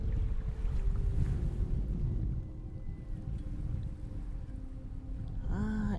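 Strong wind buffets the microphone on an open seaside shore at Lytham, a steady low roar that eases slightly midway, with a brief tonal squeal near the end.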